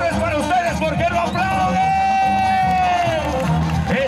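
A rodeo crowd cheers and applauds for a bull rider at a jaripeo in Tuxpan, Jalisco, a dense, loud roar of voices and whoops that lasts throughout, with an announcer shouting over it.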